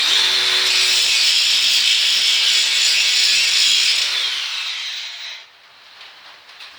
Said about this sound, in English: It's going to be a lot of grinding